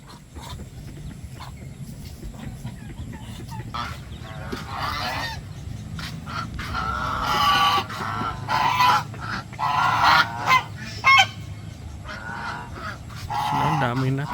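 Farm ducks, a growing flock, call out in loud, harsh honking bursts that come in clusters and overlap, with quieter chatter between them and someone talking nearby.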